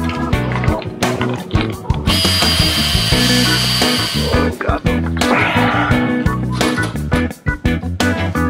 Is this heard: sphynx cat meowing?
no